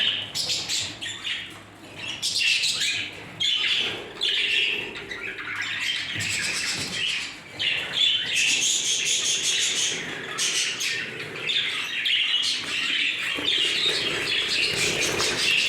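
Show Jumbo budgerigar chicks in an aviary chirp and squawk almost without pause, with busy overlapping tweets and a few wing flutters, fairly close and loud.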